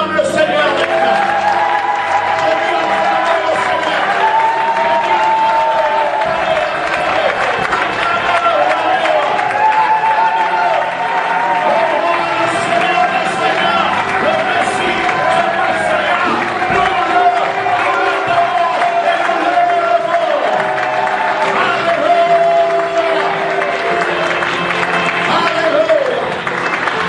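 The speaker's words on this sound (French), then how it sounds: "Et tu acclames le Seigneur maintenant." A church congregation cheers and applauds the Lord in a loud, continuous wash of clapping and raised voices that never lets up.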